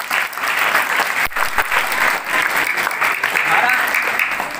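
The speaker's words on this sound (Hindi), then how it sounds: "एक बार जोरदार तालियां सबके लिए" Loud, dense applause from a seminar audience, a steady wash of many hands clapping continuously for several seconds with faint voices underneath.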